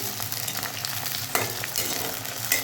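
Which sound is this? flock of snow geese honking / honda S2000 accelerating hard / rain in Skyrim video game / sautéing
sautéing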